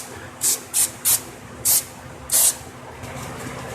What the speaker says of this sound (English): Spray that wheel off.